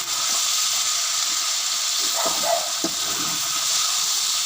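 Meat seasoned with red chili and salt cooking in a pan, giving a steady, loud hiss of frying with a few faint scrapes near the middle.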